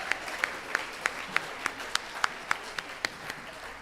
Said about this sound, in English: Yes, he deserves a round of applause.